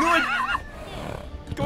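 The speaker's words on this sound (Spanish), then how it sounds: "¡Caballo!" A horse whinnies with a wavering, high-pitched neigh, followed by a stretch of muffled game noise.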